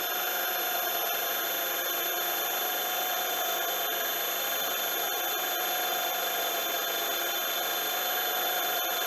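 A milling machine turns slowly while machining a precision chuck, giving off a loud, continuous high-pitched whine with a steady, unbroken drone and no pauses.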